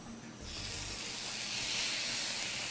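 Sauce-coated sweet candy ribs sear on a hot surface, a soft hiss swelling after a brief low thump and holding steady, fairly faint and without talk.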